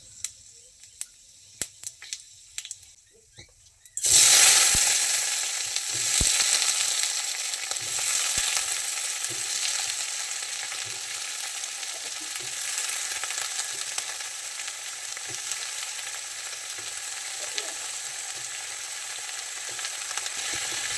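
Panch phoron and two dried chillies dropped into hot mustard oil in a kadai set off a sudden loud sizzle, which settles into a steady, close crackling fry that continues to the end.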